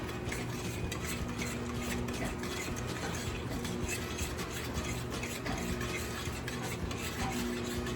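Melted butter and brown sugar for a pumpkin cinnamon roll filling being stirred in a pan, a close, steady scraping and swishing with a quiet low hum underneath, continuous and without speech.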